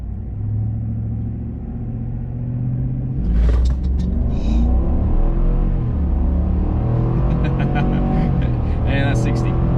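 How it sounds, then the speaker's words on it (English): A 2021 Chevy Silverado Z71 Trailboss with a 6.2 V8 and 10-speed under full-throttle acceleration in sport mode, heard from inside the cab: a deep rumbling engine climbing in pitch, stepping through gear changes, loud and continuous. "very first full throttle pull in the truck"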